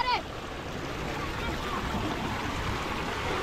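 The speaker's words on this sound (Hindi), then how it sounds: "ये पानी आप देख रहे हैं यही खेतों में जाता है बिल्कुल फ्रेश पानी।" Fresh tubewell water flowing into village fields near the Lahore border, a steady rushing gush of running water throughout, close and constant, with a person speaking over it.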